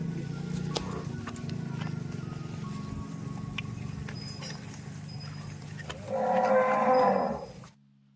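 Pregnant Murrah buffaloes at a sale in Rajahmundry, with one loud, close, drawn-out low moo near the end over a steady background rumble.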